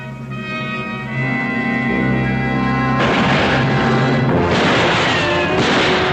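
Gunfire in a western TV drama battle scene: loud, dense bursts of shooting crash in over a sustained orchestral score, swelling into heavy overlapping blasts.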